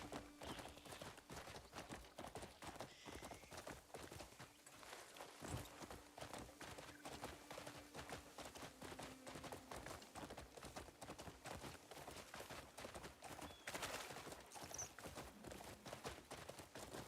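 Continuous rapid hoofbeats of a galloping horse in the video game Crimson Desert, steady and dense throughout, with a faint tone and occasional background noise.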